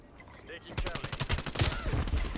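Rapid automatic gunfire from Call of Duty: Black Ops Cold War, an AK74u burst rattling loud and close for about two seconds after a quiet start.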